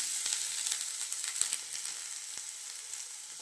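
Onions hit a hot pan with garlic for a tomato palya, giving a bright, hissing sizzle up close with a few light taps and crackles that gently settle, no talking.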